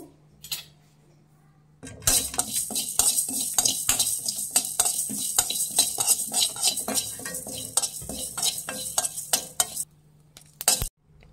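Fenugreek and cumin seeds dry-roasting in a hot pan over a medium flame, with a steady dry rattle and scraping stir of a utensil against the pan, continuous and close, ending with a couple of sharp clinks.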